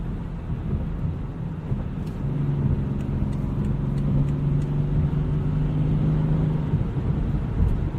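A BMW X5 xDrive 35d diesel cruising at about 1700 RPM and 70 mph on a snowy drive gives a steady, low, droning engine rumble with road noise that stays even throughout, with no talking.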